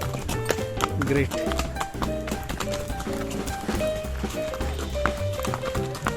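Horse hooves clip-clop steadily through a ride in hill-station Matheran at the start of the monsoon, continuous under a mix of voices talking over them.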